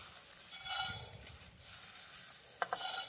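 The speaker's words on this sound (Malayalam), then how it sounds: "നമുക്ക് ഈ വറക്കാനുള്ള സാധനങ്ങളൊക്കെ ഒന്നിച്ചിട്ട് കൊടുക്കാം" Sizzling in hot oil with utensil stirring and a few clinks, moderately close, no voices.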